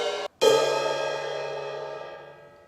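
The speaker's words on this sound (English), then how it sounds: "cymbals, you might have one of them on your drum set" Two drum kit cymbal crashes in quick succession, the second ringing out with a shimmering wash that slowly fades over a couple of seconds.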